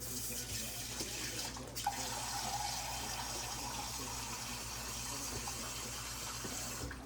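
Water runs from a tap into a pan of flour gravy mixture, a soft steady gushing that holds for several seconds, fairly faint and without talk.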